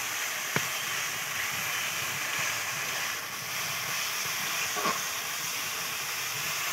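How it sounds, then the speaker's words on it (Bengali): Mustard and poppy seed masala for bata fish fries in a pan, holding a steady, moderate hiss with two brief sharp clicks from the spatula. "দেখো কত সুন্দরভাবে কষে নিচ্ছি দেখো।"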